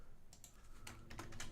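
Quiet, quick keystrokes on a computer keyboard, a short burst of several clicks typed close to the microphone.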